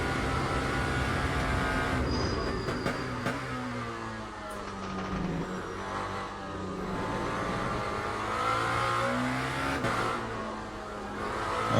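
A Lamborghini SC63 LMDh prototype engine in Le Mans Ultimate drones steadily on throttle, its pitch rising and falling through the gears as the car laps the circuit without letup.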